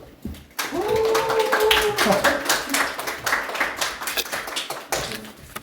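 An audience claps at an architecture lecture and studio session, steady dense clapping for several seconds with a voice talking over it and tapping sounds.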